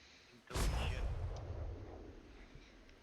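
A single heavy cannon boom in the video game Atlas bursts out, loud and close, then rumbles and fades slowly over a few seconds.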